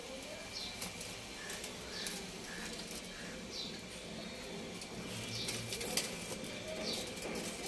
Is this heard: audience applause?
no